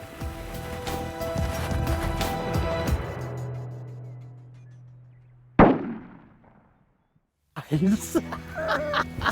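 A single sharp, loud shotgun blast fired at a turkey during a spring hunt in Nebraska, cutting through outdoor ambience after quiet waiting, then a brief lull before rustling and movement resume.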